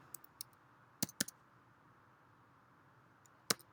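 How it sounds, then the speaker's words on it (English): Quiet, sparse clicks of computer keys, a few isolated taps early on, then a quick cluster of three or four keystrokes and one more later, close and faint with no talking. "And you can just start typing."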